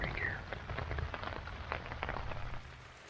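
Rain drumming on a small camping tent during a wet motorcycle trip in Australia, a continuous patter of drops close overhead with low rumbling beneath, fading slightly toward the end.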